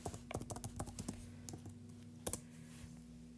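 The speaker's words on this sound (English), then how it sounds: "go to the search bar, and type in whatever shoe you want" Typing on a computer keyboard into a search bar, with a quick series of close, crisp key clicks followed by a couple of isolated taps in a quiet room.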